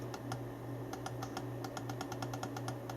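Rapid, quiet clicking of a Cooler Master CM Storm Reaper aluminium mouse button, a steady run of light, crisp taps close by over a low background hum, with no speech.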